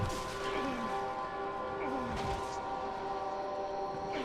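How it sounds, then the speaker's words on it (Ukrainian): An alarm keeps sounding in the background of the Dark Souls video game, a steady droning tone that runs under dense game noise for the whole stretch, with no talking. "вимкнути дурнувату сигналізацію, яка працює на задньому плані"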